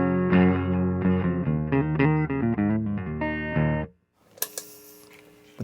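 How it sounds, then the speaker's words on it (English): A clean electric guitar on the neck pickup plays a short run of chords and notes with a warm tone, then stops, leaving a few faint clicks and a hum. "here's the clean sound on the neck pickup real quick again"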